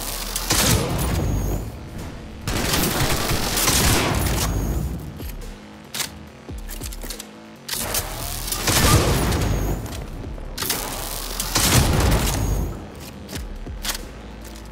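Weapon fire in the video game Cyberpunk 2077: loud booming shots in heavy bursts, several clustered blasts separated by brief lulls, dense and close with no talk.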